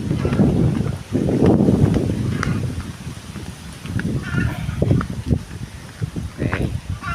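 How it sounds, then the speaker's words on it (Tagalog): Strong wind buffets an outdoor microphone in loud, gusting low rumbles that swell and ease over several seconds, with a few faint background sounds. "Sobra na naman po ang lakas po ng hangin po dito sa amin."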